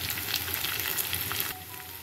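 Food sizzles and crackles steadily in a pan, a close, busy frying hiss that eases slightly in the last half second.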